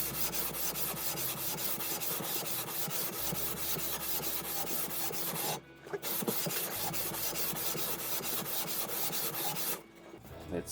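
An edge is rubbed against sandpaper in quick, steady back-and-forth strokes, a close, dry rasp that carries on continuously, with two short pauses partway through.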